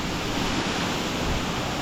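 A creek waterfall in Bali gives a dense, steady roar of falling water, loud and close, with no pauses and no voices.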